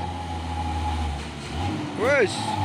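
A Hino truck labours up a hill, its engine droning low and steady with a brief rising horn-like tone near the end, while people talk over it.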